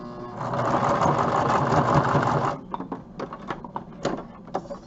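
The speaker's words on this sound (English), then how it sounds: "So what I'll do is I'll start sewing. I have this rickety old machine" A rickety old sewing machine runs steadily for about two and a half seconds, close and loud, then falls silent apart from scattered light clicks and handling knocks.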